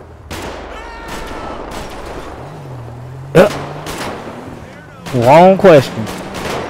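Sharp gunshots from the game GTA 5, a few scattered cracks over a low engine-like drone, with a voice speaking and a louder burst of shots toward the end.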